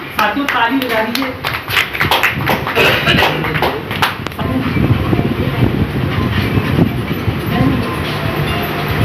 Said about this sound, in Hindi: साथियों ताली बजा दीजिए